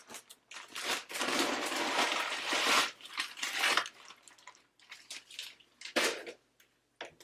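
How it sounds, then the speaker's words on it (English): Crushed animal crackers and Chex mix being poured and stirred for a Valentine's treat, heard as dry crunchy rustling and crinkling in several close bursts with short pauses between. "I'm going to go ahead and put those in with my Chex mix here."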